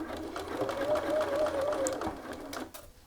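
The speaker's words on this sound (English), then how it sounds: "and then continue sewing." A sewing machine stitches the side seams of a garment in a short steady run of close, fast stitching that stops abruptly near the end.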